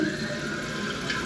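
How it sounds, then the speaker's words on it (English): A 1-gallon toilet flushes with a steady rush of water draining, continuous and close, with no talk over it. "this is a 1 gallon flush"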